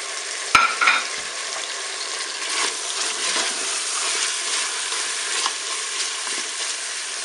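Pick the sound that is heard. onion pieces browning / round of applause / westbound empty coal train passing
onion pieces browning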